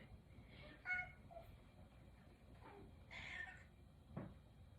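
A house cat meows indoors a few times, short faint calls spaced over a few seconds against a quiet room background with no talking.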